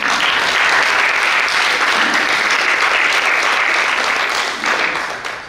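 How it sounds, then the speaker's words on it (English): Loud, sustained applause from a crowd at a Shivjayanti live canvas painting competition, steady clapping throughout that tapers slightly near the end. "Can we hear a huge round of applause for our dignitaries?"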